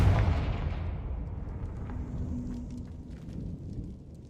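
A Confringo fire spell explodes in Hogwarts Legacy, a deep blast at the start that fades into a long, low rumbling decay with faint debris and ambience afterward.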